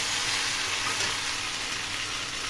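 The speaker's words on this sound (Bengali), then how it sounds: "এই হলো আমার সকাল সকাল চিকেন রান্না।" Chicken fries in a pan for a morning home-cooked meal, a constant close sizzle with faint stirring scrapes running underneath, and no one speaking.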